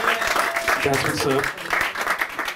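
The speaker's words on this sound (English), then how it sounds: "Keep those applause going" Audience applause at a comedy show swells and continues, with someone speaking over the clapping from the stage.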